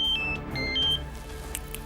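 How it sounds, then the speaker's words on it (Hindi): A mobile phone rings with a short electronic tune of clear beeping tones over soft room background, about two seconds, with no talking. "तुम्हारा फोन बज रहा है।"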